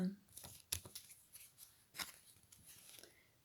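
Tarot cards shuffled by hand in a quiet room, a series of short papery riffles and flicks with one sharper snap, close and fairly faint, with no one talking.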